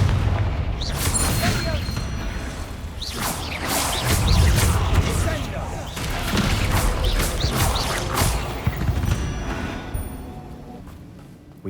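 Confringo blast spells in Hogwarts Legacy, a series of loud booming explosions with whooshing bursts spread across the stretch, against heavy combat noise and a few faint voice sounds.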